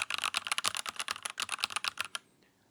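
Rapid typing on an RK61 Plus mechanical keyboard with quiet clicky switches gives a dense run of crisp, close keystroke clicks that stops abruptly.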